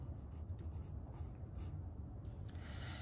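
A pen writes a number by hand on paper, making soft scratchy strokes in short bursts, quiet and close, with no talking.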